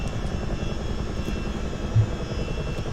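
Boeing CH-47D Chinook twin-rotor helicopter in a flight simulator, a steady loud rotor and engine drone with a low throbbing pulse, continuous and close throughout with no talking.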